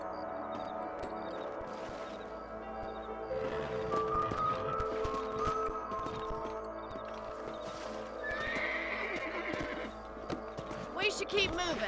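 Horses whinny and neigh over steady clip-clopping hooves in Red Dead Redemption, with talking voices and background game sounds throughout.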